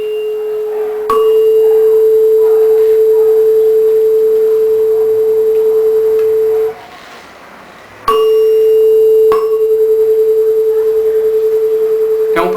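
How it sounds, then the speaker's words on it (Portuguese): Two electronically generated sine tones of close frequencies sound together as a sustained, steady mid-pitched hum. The tone cuts out briefly partway through, then resumes at the same loudness, with faint clanks at the edges. "São duas ondas geradas com frequências próximas uma da outra."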